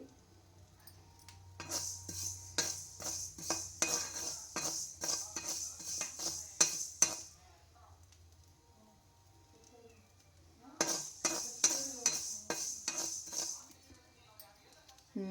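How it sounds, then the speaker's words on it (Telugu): Fenugreek seeds tossed in a metal pan for tomato chutney, giving a run of quick, bright metallic clinks and scrapes in steady rhythm, a short pause, then another burst of clinking, fairly close with a low hum beneath. "మంచి వాసన వచ్చేదాకా మెంతులు వేయించుకోవాలండి పచ్చట్లోకి"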